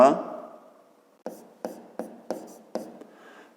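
A pen writes on paper, close and quiet: five short, evenly spaced scratchy strokes follow a brief softer rustle.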